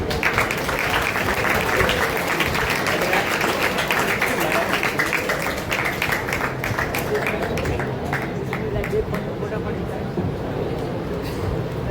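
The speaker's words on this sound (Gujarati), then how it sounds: "તાળીઓનો ગડગડાટ ચાલુ રાખજો" Audience applause at a career guidance seminar held by a community group in Navsari, a dense, continuous clapping from a crowd lasting throughout, with speech over it.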